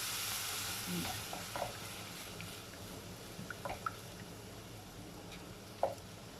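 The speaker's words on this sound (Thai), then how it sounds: "เรามาผัด เครื่องเทศเราก่อนนะคะผัดให้หอมๆก่อนนะคะ กับเนื้อของเรานะคะ" Spices and beef stir-fried together for massaman curry give a soft, steady sizzle, broken by a few faint clicks and scrapes of a utensil against the pan.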